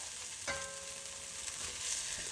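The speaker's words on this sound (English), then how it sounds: "I browned them until golden, then set them aside." Chicken thigh strips seasoned with salt and pepper browning in olive oil, a steady soft sizzle of frying with a brief clink near the start, no talking.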